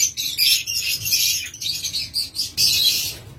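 An albino pair of pet birds chirping in quick bright bursts, close and fairly loud, with the calls coming in clustered runs and short gaps between them.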